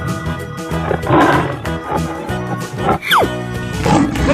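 Cartoon tiger in a 3D animated wild-animal scene lets out roaring growls over loud, busy background music, with a sliding whoosh effect partway through.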